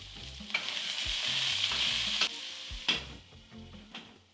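Pork and potatoes frying in a pan, seasoned with salt and black pepper, give a steady, loud sizzle. The sizzle runs unbroken throughout, with several sharp clicks and scrapes of stirring on top.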